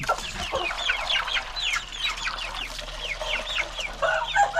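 A flock of chickens on a hot-weather farm cluck and chirp continuously in overlapping calls, close and lively, with no talking.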